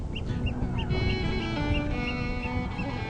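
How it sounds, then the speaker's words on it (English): Repeated high, bright calls from a pair of gulls ring out in a steady series, about one every third of a second, over a constant low background rumble by a river in Norfolk. "These 2 gulls are declaring their love for each other."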